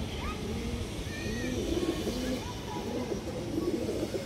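Trained flying pigeons, including a female, coo in low rolling calls against a steady background hum, with occasional higher chirps mixed in.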